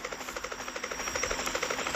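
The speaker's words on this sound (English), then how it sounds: "the attacking helicopter" An attack helicopter in Grand Theft Auto: Chinatown Wars gives off a rapid, rhythmic rotor chop, a steady thudding pulse with a buzzing whine, loud and alone.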